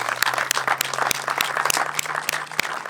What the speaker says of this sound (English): Can we have a round of applause for Gideon?